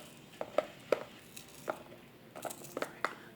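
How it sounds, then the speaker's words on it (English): An onion chopped on a board for Mississippi succotash, with about eight crisp knife chops in an uneven rhythm, close and fairly quiet, with no talking. "You know, you cut your onion up."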